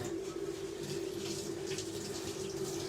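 Tap water runs steadily into a stainless steel pan in a home kitchen, a close, continuous splashing hiss with a faint steady hum underneath, no talking.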